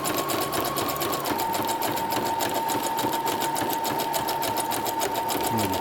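A sewing machine runs steadily while stitching a pocket onto a jumpsuit, giving a fast, even mechanical chatter with a constant whine, close and continuous throughout with no pauses.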